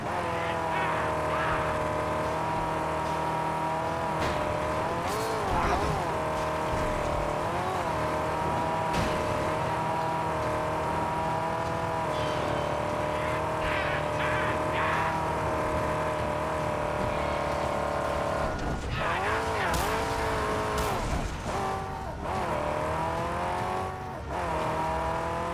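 A car racing at high speed in the Mad Max video game, its engine holding a continuous loud whine with rising and falling revs and occasional gear shifts, no talk over it.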